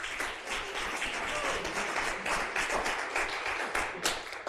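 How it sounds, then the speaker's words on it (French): Sustained applause from an audience at a talk, many people clapping steadily and fairly close for several seconds, with a few sharper claps standing out toward the end. "Est-ce que ça ne s'applaudit pas?"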